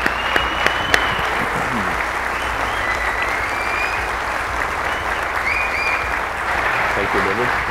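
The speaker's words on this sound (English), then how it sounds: "Can you please give him a round of applause?" A conference keynote audience gives a sustained round of applause, a broad steady wash of clapping from a large crowd, with a couple of sharp claps at the start and a faint tone above.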